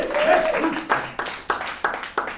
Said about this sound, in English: A round of applause for the 90th birthday of the rabbi